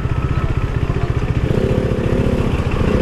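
2017 KTM Duke 390 motorcycle at full throttle on the road, a loud, close, steady engine drone with rapid pulsing that climbs slightly in pitch partway through, mixed with wind rush.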